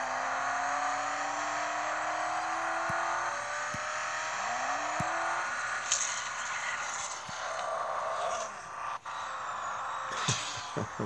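Koenigsegg Regera in a video game drag race, its engine droning steadily and rising in pitch as it accelerates with no gear changes, loud and continuous with a few faint clicks.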